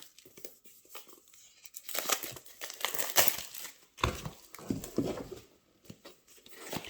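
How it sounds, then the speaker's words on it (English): Plastic and paper packaging around a small Boox Poke 3 e-reader crinkles and tears in close, irregular bursts, louder in the middle and fading to scattered rustles. "So let's unwrap it and see what it looks like."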